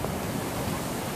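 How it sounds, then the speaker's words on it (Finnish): Big ocean surf pounds the shore on Oahu's North Shore in a steady, full roar of breaking waves with no talk over it. "Mahtavat aallot tänään."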